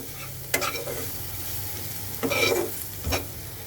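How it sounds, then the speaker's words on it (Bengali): Ground spices, coriander and turmeric, stir-fried in a pan for a country chicken curry, a continuous close sizzle broken by three distinct scraping stirs of the spoon. "এবার মশলাটাকে আরও সুন্দর করে কষাতে হবে"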